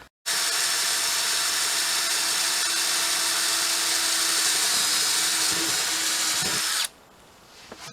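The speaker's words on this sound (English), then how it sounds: "I've got enough juice to drill a hole, I guess." A cordless drill whines loudly and steadily for several seconds close by while drilling a hole, then cuts off abruptly, leaving quiet room noise.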